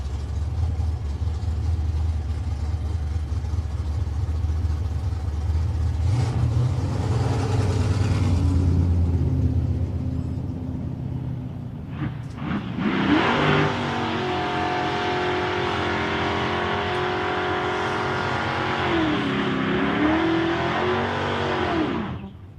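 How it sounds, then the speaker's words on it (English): A big Chevrolet and a little 1965 Mustang roar through a drag race, engines revving hard and loud with deep rumbling, then a second sustained, wavering high-revving run that holds to the end. "Jason in the big Chevrolet, and Kylie Carusi, she'll come out in the little 65 Mustang"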